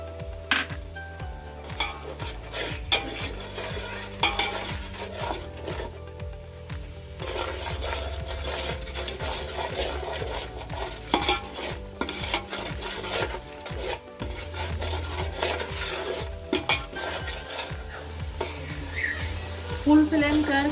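A spoon scrapes and stirs potato, pea and cauliflower pulao frying in a pan over full flame, giving repeated rough scraping strokes with a faint sizzle over a low background.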